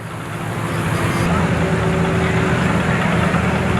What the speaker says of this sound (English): Autumn Carlson driving a 1950 Case VAC, which is something that I have never seen before